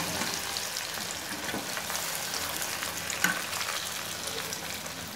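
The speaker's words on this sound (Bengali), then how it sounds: "এগুলোকে আবার ডিমে কোটিং করে কোট হয়ে গেছে। এবার আমরা এটাকে ফ্রাই করে নেব।" Egg-coated chicken drumsticks fry steadily in hot oil, a dense continuous sizzle with crackling pops and one brief sharper spatter, close and even throughout with no voices.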